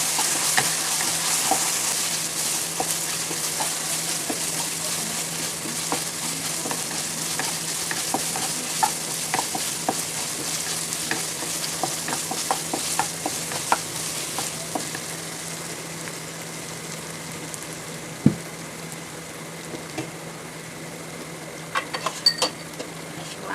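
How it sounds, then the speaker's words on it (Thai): Thai curry paste with fish sauce stir-fries in a pan, giving a continuous close sizzle broken by scraping stirs and occasional clinks of a utensil against the pan, with no talk. "แล้วก็ผัดให้ที่แกงหอม ผัดไปเรื่อยๆ"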